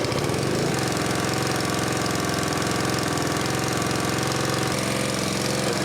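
A Honda GX140 gasoline engine driving a Jenny air compressor runs rough and loud up close, a steady rapid chugging drone with an uneven, knocking pulse and no talking.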